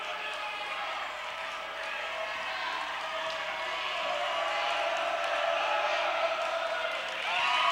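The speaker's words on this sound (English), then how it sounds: "That crowd really making a lot of noise, making it tough for Cortez to concentrate on these free throws." A loud high school boys' basketball gym crowd roars steadily during free throws, a dense wash of yelling and chatter that swells slightly toward the end, with no clear single voices standing out.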